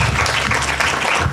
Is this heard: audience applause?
yes